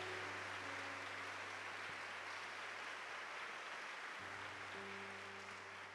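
Congregation applauding during a Catholic homily in Portuguese, a steady wash of clapping held at an even level throughout, with a low organ-like hum and faint tones underneath.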